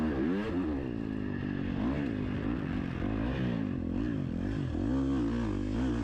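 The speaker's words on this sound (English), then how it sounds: "I'm very just blip, blip, blip, blip, as you can hear." A motocross dirt bike on a race lap runs at close range with throttle blips, its engine rising and falling repeatedly in a fast rhythm. The engine is loud and continuous throughout.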